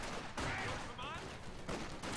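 MG42 machine gun fire in a World War II strategy video game, rapid bursts crackling amid battle noise under a commentator's continuous talk.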